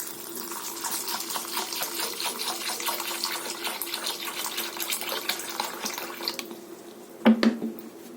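Chana dal lentils are rinsed in water for a vegetarian Bengali dal, with a steady close swishing and splashing throughout. Near the end, a couple of sharp knocks cut in.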